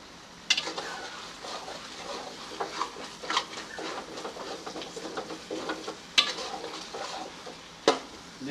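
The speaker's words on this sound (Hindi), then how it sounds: "अब थोड़ी देर के लिए इसे भून लेते हैं।" Semolina halwa made with milk, roasting in a pan as a spoon scrapes and stirs it, with irregular scraping strokes and a few sharp knocks against the pan over a low sizzle, close up with no talk.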